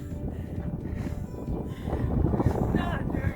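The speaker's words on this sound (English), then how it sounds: "It's quite a bit windy here today." Wind gusts buffet the microphone at Garden of the Gods, Colorado, a steady low rushing roar with swells, while people talk nearby.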